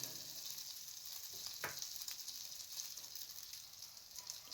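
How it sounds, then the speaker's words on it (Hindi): An egg-dipped bread slice for French toast fries in a non-stick pan with a steady, soft, even sizzle, one brief scrape partway through, quiet and close with no talking. "ब्रेड स्लाइस को डिप कर लें और किसी नॉन स्टिक पैन के ऊपर इसको फ्राई कर लें"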